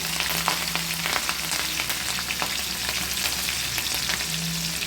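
A tempering of mustard seeds, cumin and finely chopped green chili crackles in hot oil in a kadai, giving a dense continuous sizzle with frequent sharp pops, close and fairly loud, with no voices.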